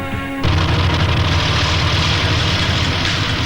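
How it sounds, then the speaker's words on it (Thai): A new BMW car with an M40 engine runs in a TV commercial: after a brief musical tone, a loud, steady low engine drone starts abruptly and holds evenly throughout. "สัมผัส BMW ใหม่ เราใจ ด้วยเครื่องยนต์ M40 พลังสูง วิ่งแรงเรียบ"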